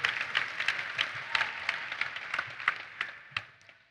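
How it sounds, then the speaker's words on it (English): Applause from a crowd at a press conference introducing a women's basketball coach: a steady patter of many hands clapping, moderately distant, with a few louder individual claps standing out, no voices. "You can clap for academics."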